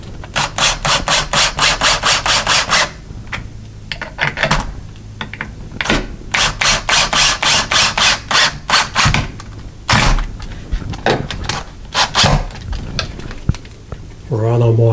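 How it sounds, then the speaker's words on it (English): Screws are driven down into wood to fit a closet shelf, producing loud, close, rapid rasping bursts in a repeated start-stop rhythm with brief gaps. "And then we're going to screw these screws down."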